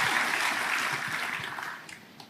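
A church congregation claps together in a dense, steady wash of applause that gradually fades out over a couple of seconds.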